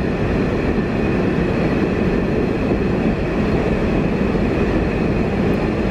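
KfW i9000 commuter line electric train pulling into Purwosari station, a steady loud rolling rumble and hum of the railcars close by, continuous with no speech.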